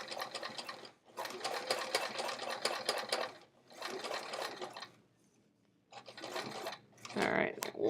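A home sewing machine runs in several bursts as it stitches a short back tack through pink Velcro on a pocket, its close whirring motor pausing between runs before starting again.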